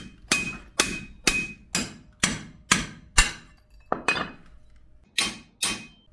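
A hammer strikes by hand while forging a Gaomi, Shandong kitchen knife, giving about a dozen sharp metallic blows at a steady, even rhythm, each ringing briefly before the next, close and loud with no talk.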